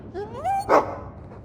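A war dog in the video game Dragon Age II gives one brief, rising whine that ends in a short yelp, close and fairly loud over a faint background.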